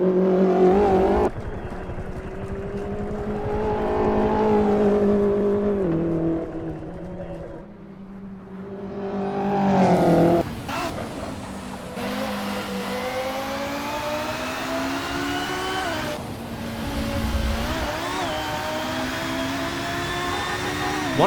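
Subaru Levorg touring car racing in Assetto Corsa, its engine revving hard through rising and falling gear changes, loud and close throughout with brief dips between shifts and no talk.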